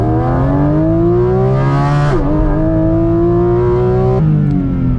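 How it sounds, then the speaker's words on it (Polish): A Porsche GT4 RS under kickdown acceleration in sport mode: a loud, close engine roar rising steadily in pitch, a sharp gearshift drop around the middle, then another climb and a second shift near the end. "Teraz pokażę Wam, jaka zwłoka jest, jak duża zwłoka jest wciąż w trybie sport. Uwaga! Kickdown."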